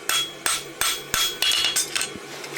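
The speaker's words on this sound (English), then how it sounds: "We'll use the round side of the hammer, lock it in." Blacksmith's hammer striking a roadster horseshoe on an anvil during competition practice, seven sharp ringing blows in a steady, slightly uneven rhythm, close and loud with metallic ring between strikes.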